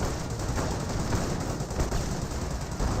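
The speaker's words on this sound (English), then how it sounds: "Felt like there was a Flak 88, but maybe it's the Panthers firing away" Panther tanks fire in the World War II strategy game Company of Heroes, a dense, continuous roar of gunfire and blasts with no clear gaps, loud and close, with no talking.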